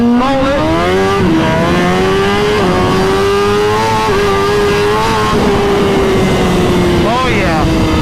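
2022 Suzuki Hayabusa pulling hard in first gear, engine pitch climbing steadily in a long loud wail close to the microphone, with wind rush mixed in.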